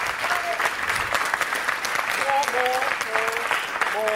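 Sustained applause from a conference audience rating a pitch team, a steady dense wash of clapping throughout with a few faint voices and tonal whistles mixed in.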